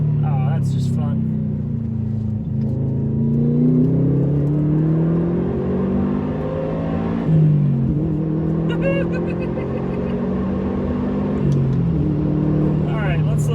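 Subaru WRX STI driving and accelerating in second gear through a 20 mph zone, engine note climbing through several revving pulls with gear-change dips, loud and close, with someone talking over it.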